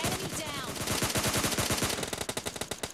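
Rapid automatic gunfire in the PUBG Mobile Lite video game, dense bursts of loud shots that start continuous and break into sharper separated cracks toward the end.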